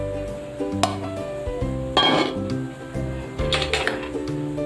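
Chopped tomatoes stirred through a curry pan with dried red chillies for a Naga-style chicken curry with bamboo shoots, giving intermittent clinks and scrapes of a utensil against metal, with a louder burst of rattling around the middle.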